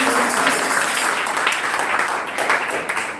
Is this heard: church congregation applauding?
yes